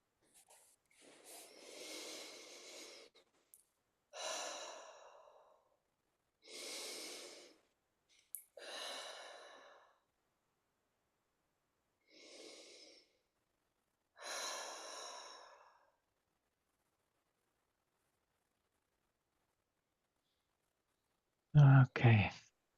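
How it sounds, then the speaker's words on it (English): Slow, deep breaths during a guided breathing session, six long airy inhales and exhales separated by silent pauses, close and clear, with a brief louder sound at the very end. "Taking a few deeper breaths."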